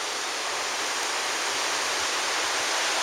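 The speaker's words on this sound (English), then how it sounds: "There's a nice little waterfall over here." A small waterfall on Kolob Mountain in Zion National Park spilling into a little pond, giving a steady, close, full rushing hiss of falling water with no talk over it.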